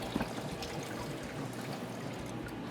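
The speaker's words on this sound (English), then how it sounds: "every time there's an order, we sort of just drain out the water" Water draining off soaked eggplant in a restaurant kitchen, heard as a steady close trickle and pour of liquid running out with no talk over it.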